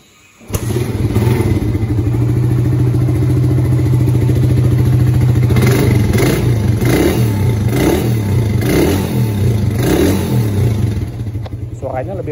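A Suzuki Satria FU 150 motorcycle engine idles with a steady low throb, then revs up in several surges and settles back, loud and close with a mechanical clatter.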